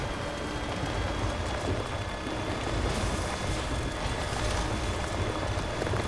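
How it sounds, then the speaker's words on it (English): Rain falling in a rainy area of the video game Death Stranding, a dense, loud, continuous hiss and patter of heavy rainfall with a low rumble underneath, steady from start to finish with no talking. "But I think this is just a rainy area."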